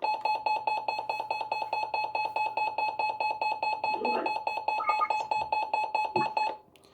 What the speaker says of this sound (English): That beep siren is for tests.